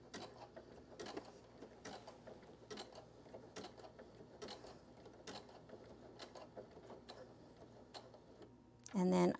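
A machine embroidery sewing machine stitching lock stitches, a rapid close mechanical ticking and clatter of needle strikes, ending in a louder burst of motor noise.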